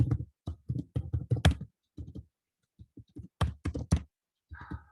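Clattering computer keyboard typing, close and dry, comes in short bursts of keystrokes separated by pauses, with a brief faint tone near the end.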